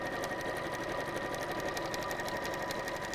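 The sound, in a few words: sewing machine quilting into fleece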